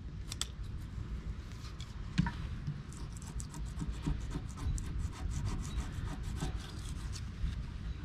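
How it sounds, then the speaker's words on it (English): A Lyle razor blade scraper is dragged across sheet steel in close, quiet, repeated rasping strokes, a steady scratchy scraping with small clicks and ticks throughout. "I'll take my Lyle brand scraper. There's a razor blade that goes on the end."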